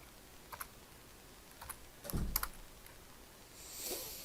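A few scattered, faint key clicks on a computer keyboard while entering a value in drafting software, sparse taps spread across a quiet room.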